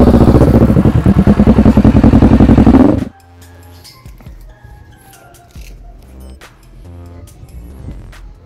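A motorcycle with a V-Lite slip-on exhaust, apparently a Yamaha MT-07, revs loudly and close by for about three seconds, then cuts off, leaving a quieter idle with light clatter and scattered background sounds.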